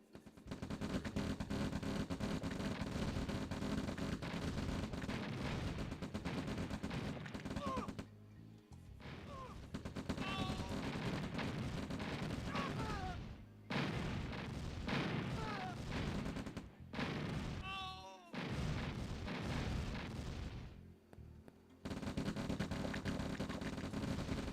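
Tanks attack in the Red Alert strategy game with dense, continuous gunfire and explosions, a loud crackling barrage broken by a few brief pauses.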